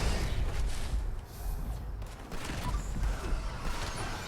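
Gunfire from the Fallout 76 video game, a string of muffled, fairly distant shots over a dense, rumbling battle ambience that runs throughout.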